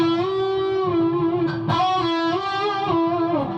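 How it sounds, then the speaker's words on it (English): Electric guitar through distortion playing single-finger string bends, a sustained note repeatedly pushed up in pitch and released, loud and close with no talking. "single finger bends"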